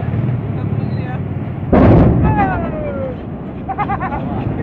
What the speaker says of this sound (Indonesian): Barusan terjadi ledakan di pada